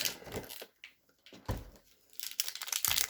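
A plastic blind-bag packet of a Disney Doorables figure crinkles and rustles close by in irregular bursts, with brief quiet gaps between handling sounds.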